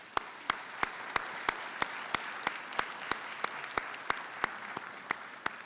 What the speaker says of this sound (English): And we get a clap for them